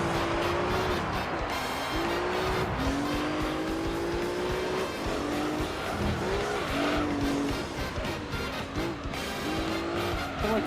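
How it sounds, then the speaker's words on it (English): A race car engine in Gran Turismo 3 screams at high revs, pitch climbing and dropping through gear shifts, with tire squeals and road noise throughout. "its engine note makes it sound like it's screaming at everything."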